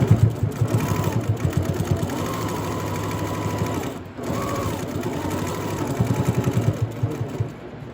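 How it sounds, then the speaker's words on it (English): A sewing machine edge-stitches around a fabric face mask with elastic, running in a steady, close, whirring rattle that pauses briefly midway and then continues. "I'm just edge stitching around the entire thing."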